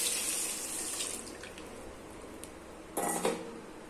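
Water splashes and trickles into a metal cooking pot of drumsticks (moringa pods), fading to a quiet drip before a louder burst of pouring near the end.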